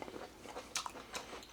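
Someone bites into a crunchy Sicilian olive marinated in olive oil, giving a few faint, sharp crunches and chewing sounds, close and quiet.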